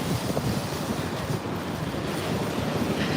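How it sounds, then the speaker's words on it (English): Wind gusts off the Hudson River in New York City, a steady loud rumble of wind buffeting the microphone, with no voices, constant through the whole stretch. "The wind is coming off the Hudson."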